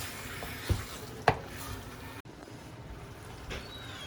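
Chicken curry is stirred in a pot with a few soft scraping knocks of the spoon over a steady low sizzle and hiss, fairly close and with no talking.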